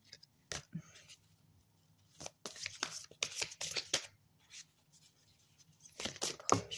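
Tarot cards being shuffled and handled in several short, crisp bursts of riffling and flicking, close and fairly quiet, with a low hum between and a voice speaking at times.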